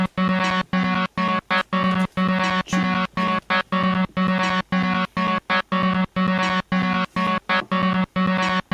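A Looperlative LP2 looper repeats an 18-step scrambled pattern of short, choppy tonal bursts, cut by regular gaps into a fast stuttering rhythm, loud and close with no talking.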